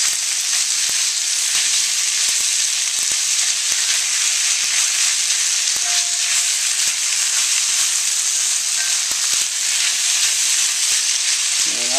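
Instant ramen noodles with pork, shrimp and vegetables stir-frying in a wok, giving a steady, loud, close sizzle that runs unbroken for the whole stretch, with faint scrapes from stirring.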